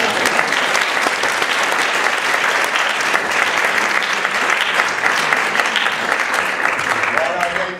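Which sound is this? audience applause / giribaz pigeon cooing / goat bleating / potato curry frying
audience applause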